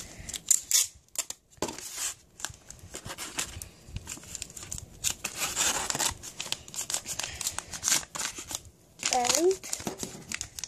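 Adhesive tape is pulled and wrapped around a dry erase marker, giving crinkly, tearing and rubbing sounds close by, mixed with a person talking throughout.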